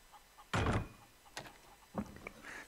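A door opens in the game Far Cry 3, giving a heavy close thunk followed by fainter knocks and scrapes, with nobody speaking.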